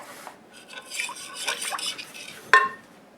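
A big fork mixes sourdough ingredients in a bowl, light scraping and stirring clinks close by, ending in a sharp metallic knock against the bowl's side.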